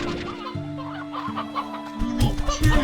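A rooster in the video game Slime Rancher 2 clucks in a few short repeated bursts, close and clear over a quiet steady background.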